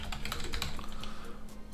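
Computer keyboard typing, used while setting up a Victron 12V inverter on a Raspberry Pi, with rapid irregular clicking keystrokes close by and fairly steady throughout.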